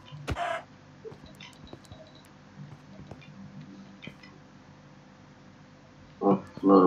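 Chicken clucking in the video game Minecraft, short clucks near the start and a louder burst near the end, over quiet game ambience with soft taps.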